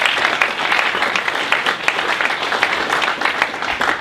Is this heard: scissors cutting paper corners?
no